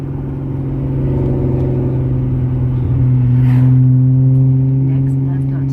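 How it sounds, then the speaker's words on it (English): Loud car engine revving with a steady droning hum that rises in pitch midway, heard from inside a Genesis Coupe driving on city streets. "his car's loud, man"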